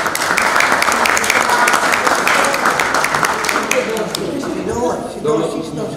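Sustained applause fills a county council meeting hall in Bacău, a dense steady patter of many hands clapping that stays loud for several seconds before easing slightly, with some voices mixed underneath.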